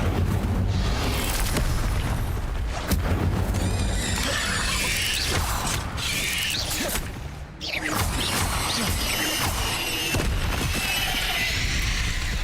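Incendio fire spells cast over and over in a wizard game, bursts of whooshing flame with crackling and shattering crashes, loud and dense, with one brief drop in the middle.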